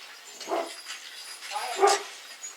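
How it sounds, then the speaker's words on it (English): Excited dogs bark at horses a few times outdoors in a backyard at moderate distance, two stronger barks standing out among quieter yips. "Dogs are all excited because they see horses in our backyard."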